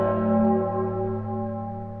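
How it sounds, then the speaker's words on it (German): Church bells tolling in the horror game Pocket Mirror, a loud, rich sustained bell tone with layered overtones slowly decaying over two seconds. "Jetzt läuten die Glocken."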